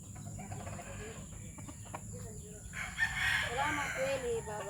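A rooster crows once, loud and near, in a farmyard of freshly fed roosters, rising over soft clucking and rustling background noise, with someone speaking faintly nearby.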